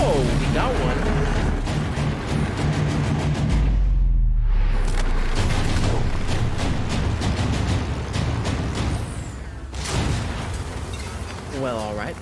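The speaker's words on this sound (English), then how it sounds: "the pink dudes got blown up" Heavy explosions boom in a Red vs Blue episode, a loud continuous roar of blasts and rumble with crashing debris, layered under excited voices talking over it.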